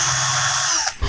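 A heavy-duty cordless drill running steadily with a loud, even whine for about a second, then cutting off with a brief clunk as it stops.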